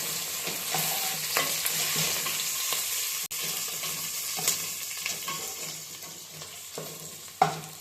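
Curry leaves frying in hot oil with browned onions, a steady close sizzle with a few scraping stirs and small clatters, no talk.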